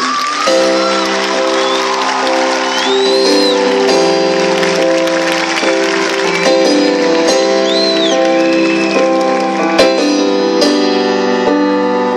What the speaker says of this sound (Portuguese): Você pode aplaudir a Ele, que é santo.